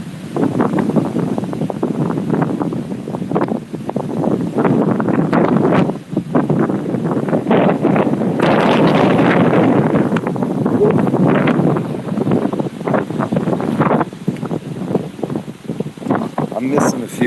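Strong Hurricane Francine wind gusting at Lake Pontchartrain, buffeting the microphone with continuous loud rumbling noise and surging gusts, while a person talks over it.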